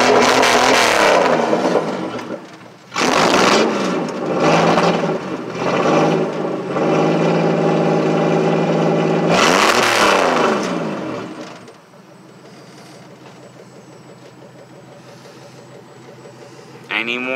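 A 1995 Pontiac Grand Prix demolition derby car roars loudly close by, its engine revved hard in repeated bursts before dropping to a rough, steady idle.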